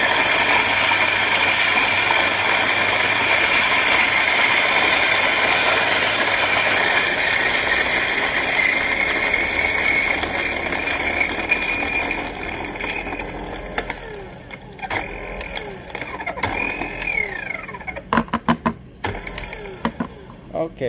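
A coffee grinder works through 70 grams of Puntang Red Honey beans for cold brew, giving a steady, loud whirring grind for most of the clip before it thins into sparse rattles and clicks as the beans run out.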